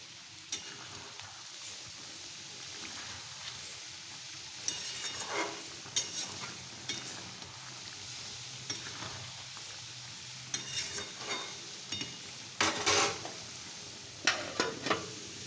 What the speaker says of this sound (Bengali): মাংসটা এখন কষাচ্ছি আর তো চলো মাংসটা কষিয়ে নিই